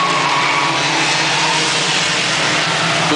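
Charger class race cars roar around Lebanon I-44 Speedway in a continuous, loud engine drone with no breaks.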